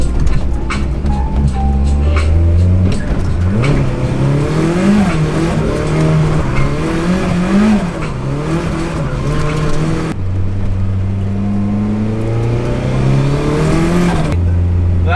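A Nissan S13 drifts through an isolated corner at night, its engine revving hard and wailing up and down with steady tire squeal, loud and close for the whole stretch with no talking.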